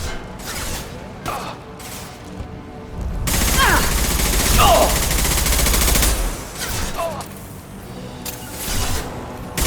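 Mass Effect 2 combat: a sustained burst of rapid gunfire fills the middle of the scene, preceded and followed by scattered shots, with voices speaking over the fighting.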